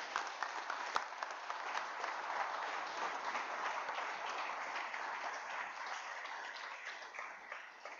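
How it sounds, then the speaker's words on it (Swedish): An audience at a Baptist church annual conference applauds in a soft, even patter of many hands, steady and distant-sounding throughout, with one sharper clap standing out near the start. "Och så ger vi dem också en applåd."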